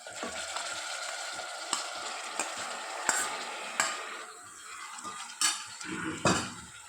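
Ginger garlic paste frying and being stirred in a pan for a mutton curry: a steady sizzle with repeated scrapes and clinks of a spoon against the metal pan, close and clear with no talking.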